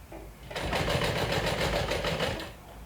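A sewing machine runs in one steady burst for about two seconds, stitching a quarter-inch seam, with a fast even rattling hum that starts and stops cleanly, close and alone.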